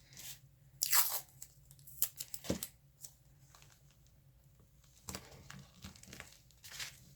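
Masking tape torn and handled while making small tags for a vintage fashion journal, heard as close, sparse crinkles and sharp ripping bursts separated by quiet gaps.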